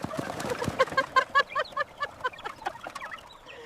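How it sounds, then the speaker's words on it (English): Hungry birds, likely chickens, are fed dinner in a mountain setting in Afghanistan, giving off a busy run of repeated, fairly close clucks and squawks that rise to a burst of louder calls in the middle. "Come on, you hungry little birds, here's your dinner."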